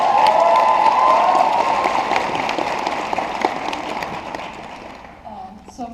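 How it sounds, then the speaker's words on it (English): Round of applause from a fan convention audience during a panel: steady, dense clapping from a large crowd, loud at first and gradually thinning over several seconds, with some cheering and voices mixed in. "I think you should get a special round of applause."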